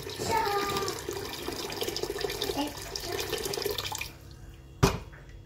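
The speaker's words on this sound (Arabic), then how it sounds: "وهلأ حفضي المي فوقن" Tap water runs into a pot over potatoes, carrots and lentils for a quick soup, a close steady splashing stream that stops near the end, followed by one sharp clunk.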